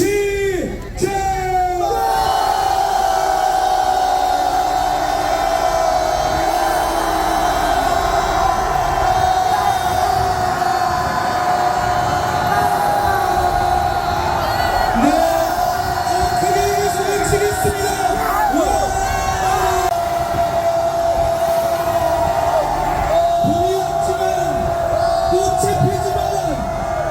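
A large protest crowd in Gwanghwamun Square roars and shouts together in sustained, loud waves of yelling and cheering, with amplified voices rising through the din.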